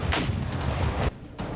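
A large explosion on the Crimea bridge in news footage, a dense roaring boom that fills about a second before cutting off sharply, then a fainter rumble returns.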